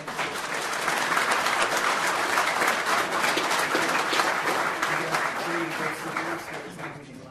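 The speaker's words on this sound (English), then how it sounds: "One more round of applause." Applause from the audience at a city council regular meeting in Amarillo, steady clapping that swells, holds and then tapers off, with faint voices mixed in.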